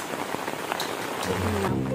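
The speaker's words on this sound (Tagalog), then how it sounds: "It's raining." Rain falls with a steady patter of drops hitting surfaces nearby, forming a continuous hiss. A low hum and faint background sounds rise toward the end.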